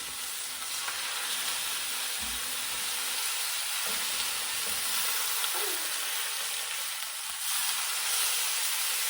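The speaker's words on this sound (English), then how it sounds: "All right, I'm gonna give these a flip." Apricot glossed chicken pieces sizzling steadily in a pan after being flipped, a close, even hiss with a few faint utensil bumps, no talking.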